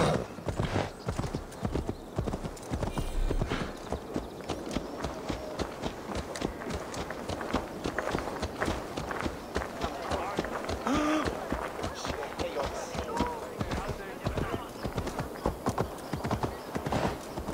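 A horse gallops in the Assassin's Creed Valhalla video game, a fast, steady clip-clop of hooves close by with an occasional whinny, while a person talks over the game sound.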